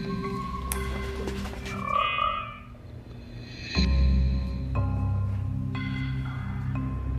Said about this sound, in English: Would you like to hear him croak?